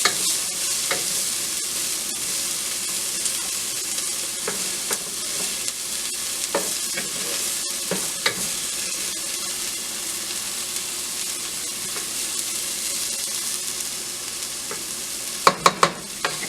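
Onions and garlic sweat in olive oil in a pan, giving a steady, close, broadband sizzle with occasional stirring clicks and a few sharper clatters near the end; no one speaks.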